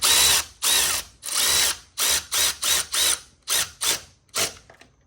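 Power tool or impact ratchet tightening sensor bolts on a BMW E46 engine, a series of about ten short whirring bursts in quick succession, close and loud, with brief pauses between.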